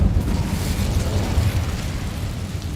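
Incendio fire spell cast in Hogwarts Legacy, a short burst of roaring, crackling noise that starts loud and stays dense, with no voices.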